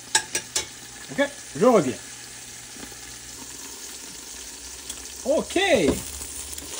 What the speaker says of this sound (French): je recouvre et je laisse encore mijoter 3 minutes